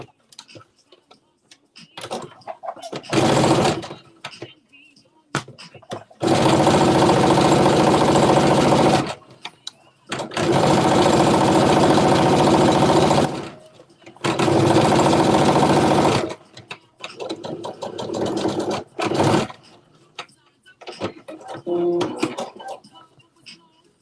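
A domestic sewing machine runs a 5/8-inch seam on a Simplicity S9463 garment, loud whirring stitching in three long steady bursts with shorter starts and stops between them.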